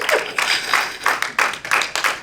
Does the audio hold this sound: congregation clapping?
yes